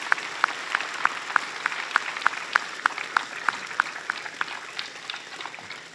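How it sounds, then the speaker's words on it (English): An audience at a driver safety event applauds participants with a crowd of scattered claps, while one nearby pair of hands claps in a steady, evenly spaced rhythm that stands out clearly above the rest. "let's take a minute to give them a round of applause for their participation"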